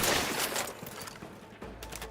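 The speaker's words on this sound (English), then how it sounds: "I sometimes have the feeling that my shots do not hit" Bursts of gunfire from a first-person shooter game, The Outer Worlds 2, a rapid string of shots that fades, then fires again, fairly close with no speech.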